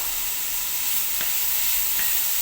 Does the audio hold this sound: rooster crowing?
no